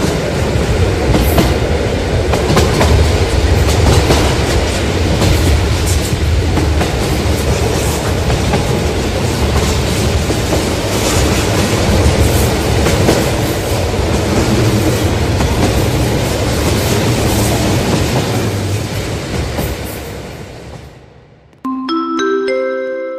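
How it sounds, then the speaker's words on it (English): A Roblox video game train pulls away with steady, loud clattering wheels and rail rumble, continuous for about twenty seconds before cutting off, followed by a brief electronic tone. "The train is leaving."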